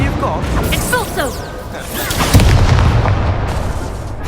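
Spell blasts in the Hogwarts Legacy video game boom and crackle in a loud, busy stretch, with voices shouting over the rumbling impacts.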